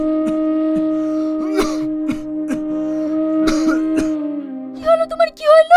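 A man coughs several times in short hacking bursts, close and loud, over a sustained musical tone from a Bengali drama, with voices rising near the end.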